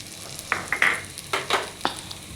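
Masala of coriander powder, pepper powder, turmeric and Kashmiri chilli being stirred in a hot pan, with soft sizzling under a few sharp spoon scrapes and clinks against the metal, spaced irregularly and close by.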